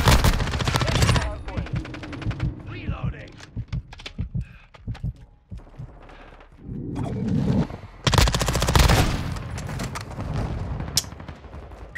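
Rapid automatic bursts from a BAS-P submachine gun in Call of Duty Modern Warfare 2's Shoot House map, loud close rattling volleys separated by quieter gaps with game effects, and a player talking between shots.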